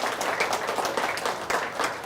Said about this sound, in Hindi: इनके लिए बहुत सारी तालियां तो बनती हैं।